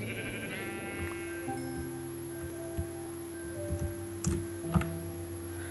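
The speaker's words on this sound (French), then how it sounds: "Oh, le mouton, hein." Sheep bleating in the Minecraft video game during a survival match: a few nasal, wavering bleats near the start over steady game ambience, followed by light ticking clicks and soft thuds.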